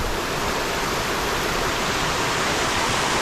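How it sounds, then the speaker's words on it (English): A river current flows through a valley in a steady, moderately quiet rushing hiss of water, continuous and even with no other sounds. "Like the water current is quite low"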